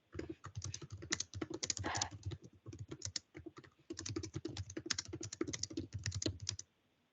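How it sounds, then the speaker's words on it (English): Fast, heavy typing on a computer keyboard comes through a meeting call, dense bursts of key clacks with brief pauses between them, fairly quiet and close. "I'm going to mute the aggressive typer"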